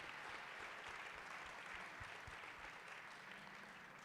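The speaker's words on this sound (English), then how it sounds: "let's give them a round of applause for doing the deed." Audience applause at an evening event, a steady wash of clapping from many hands that stays even for a few seconds, moderately distant.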